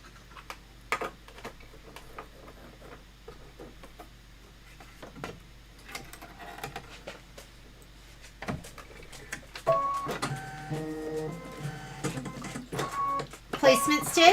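Embroidery machine running a placement stitch, a rapid mechanical ticking and whirring that picks up and grows louder toward the end, with quiet speech over it.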